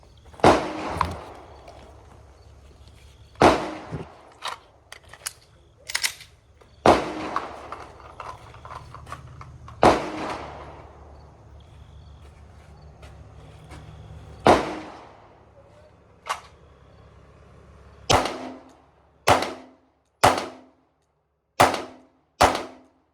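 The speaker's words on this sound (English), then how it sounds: "So that was 5 shots at 30 yards." Gunshots fired at a target 30 yards away during defensive shooting practice: a series of loud, sharp cracks at irregular intervals, closer together toward the end, each with a short ringing tail, and no talking.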